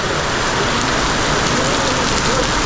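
Heavy monsoon rain pours down steadily at Marleshwar temple and waterfall in Konkan, a dense, loud hiss of water drumming on surfaces with no letup.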